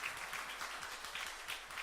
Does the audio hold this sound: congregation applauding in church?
yes